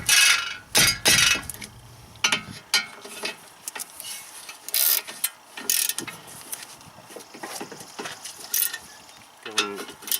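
Bursts of ratchet clicking as the brake caliper bolts on a BMW E36 3 Series are tightened, quick irregular metallic ratcheting strokes close up with quiet gaps between, no talking.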